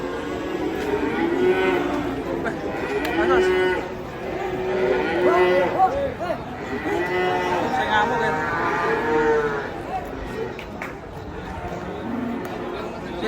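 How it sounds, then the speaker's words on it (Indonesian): An albino water buffalo lows repeatedly as it comes off a truck, its deep calls rising and falling over about thirteen seconds amid a chattering crowd of people talking nearby. "Kebo bule ini."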